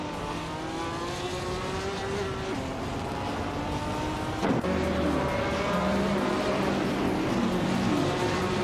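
Classic Indy cars racing at Istanbul Park in a racing video game: a continuous engine roar with shifting pitches as several cars rev and run close together, a brief sharp thump midway.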